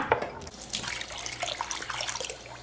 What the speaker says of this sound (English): So I run them and rinse them underwater until the water is pretty clear.